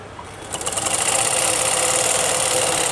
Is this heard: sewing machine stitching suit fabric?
yes